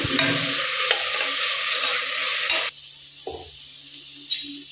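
Ginger garlic paste frying with onions in a pan for a chicken gravy, a loud steady sizzle that drops abruptly to a quieter hiss with a couple of soft stirring scrapes.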